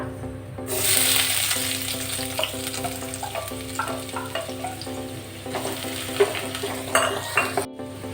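Thinly sliced onion hitting hot oil with whole spices, a loud close sizzle that flares up and then settles into steady frying, with light clinks of a spoon stirring throughout and no talking.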